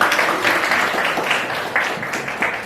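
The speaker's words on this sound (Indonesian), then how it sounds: "kita kasih tepuk tangan buat Pak Hal" A group of students in a classroom claps for a presenter, with a moderate, slightly uneven patter of hands at close range and small surges in rhythm.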